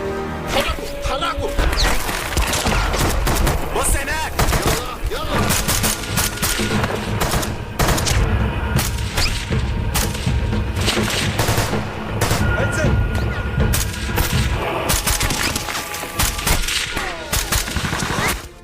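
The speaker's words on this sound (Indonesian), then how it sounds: "Dan terjadilah baku tembak yang cukup sengit." A fierce shootout from the film Sniper, with dense, loud bursts of rapid gunfire and heavy impacts that continue without a break.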